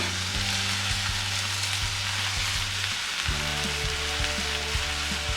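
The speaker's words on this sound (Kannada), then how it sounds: "ಈಗ ಇದನ್ನೆಲ್ಲ ಹುರ್ಕೊಳ್ಳೋಣ" Fennel seeds, roasted gram, pepper, cinnamon, cloves and ginger paste fry in oil in a pan for chicken sambar, giving a loud, close, continuous sizzle over a steady background hum, with no talking.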